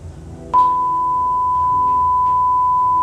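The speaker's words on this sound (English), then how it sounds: "This is a 1 kHz reference tone at minus 20 dBFS." A steady 1 kHz sine reference tone at -20 dBFS starts abruptly about half a second in and holds unchanged at constant level to the end, over a faint low background hum.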